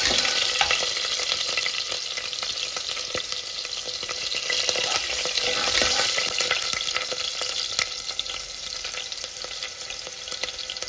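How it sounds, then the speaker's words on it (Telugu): Onions and four green chillies fry in hot oil for a goat head curry, giving a steady, close, dense sizzle that holds evenly for the whole stretch with faint stirring beneath and no voices. "అండ్ ఆనియన్ మంచిగా వేయించుకోవాలి."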